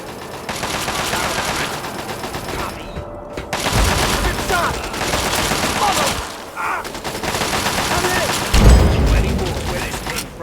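Sustained automatic gunfire in Fallout 3 during a fight in the Pitt, long loud bursts of rapid shots broken by brief pauses and a heavy thump near the end, with game voices shouting over the barrage.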